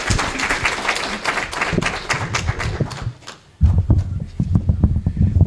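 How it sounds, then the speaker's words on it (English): A small church congregation claps for a musician after special music at a Sunday service, sparse uneven claps with a brief lull before the clapping picks up again. "Let's give him a round of applause"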